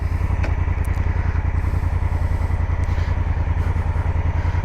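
A Honda Africa Twin DCT motorcycle engine runs steadily at idle, a loud, continuous low rumble with a fast even pulse and light mechanical clatter, close by and with no voices.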